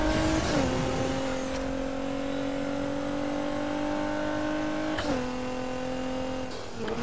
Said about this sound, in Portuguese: Só dou drift nas ocasiões necessárias.